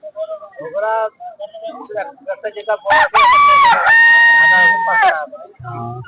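Chickens for sale at a pond-side village market, a rooster crowing loudly and close among clucking, with people talking nearby before and after.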